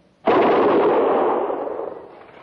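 Rifle volley fired by a squad of soldiers at a frontier fort in an old-time Western radio drama: one loud, sharp blast that rings and slowly decays over a couple of seconds.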